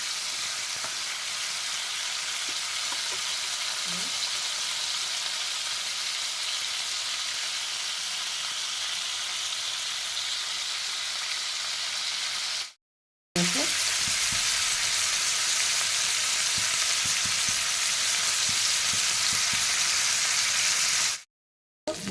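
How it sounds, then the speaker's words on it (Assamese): Oil sizzles steadily as fish fries on a gas stove, a loud continuous crackling hiss with two short breaks where the sound cuts out. "মাছকেইটা ভাজি থৈ দিওঁ"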